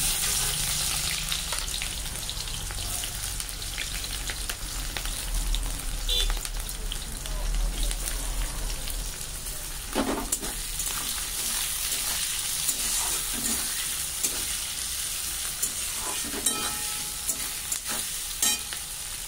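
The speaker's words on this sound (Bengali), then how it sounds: "পেঁয়াজটা একটু লাল লাল ভাজা হয়ে গেলে" Onions sizzle and fry in a pan while being stirred for an octopus curry, a steady close hiss with scattered scraping stir sounds throughout.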